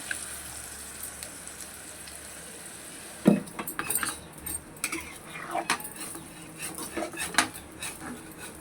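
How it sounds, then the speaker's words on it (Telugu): Fish pieces going into a pan, a quiet start followed by a sharp clatter and a run of metallic clinks and scrapes of utensils against the cookware, close and irregular, without speech. "ఇప్పుడు చేప ముక్కలు వేసుకోవాలి"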